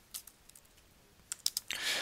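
Typing on a computer keyboard while entering instructions for custom composite goalie hockey sticks, a few scattered close key clicks followed by a quick burst of taps, crisp and fairly quiet with no talking.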